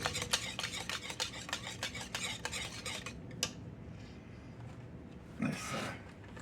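Peanut butter being stirred into loaf batter in a bowl: steady rhythmic clinks and scrapes of a utensil for about three seconds, then quieter rubbing with one brief louder scrape near the end.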